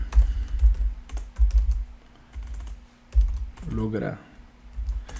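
Close, crisp typing on a computer keyboard comes in quick clusters of key clicks with short pauses, and someone speaks briefly over it near the end.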